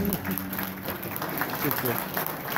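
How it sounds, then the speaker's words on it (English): Audience applause at a live gathering, steady clapping from a room of people with voices talking over it throughout. "So I want everybody to give a round of applause to Lenny."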